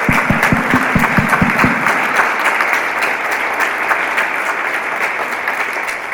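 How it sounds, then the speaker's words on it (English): A crowd of guests at a 90th birthday party breaks into a loud, sustained round of applause, with a few sharp near claps at the start blending into dense, steady clapping throughout. "I want to give her a round of applause."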